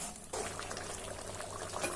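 Pea and potato kurma curry simmers in a pot, a faint, steady bubbling and gentle liquid burble that continues alone after a soft start.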